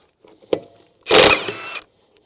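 A Milwaukee M18 FUEL half-inch high-torque impact wrench in bolt removal mode fires one loud, dense burst of under a second after a faint click, then stops.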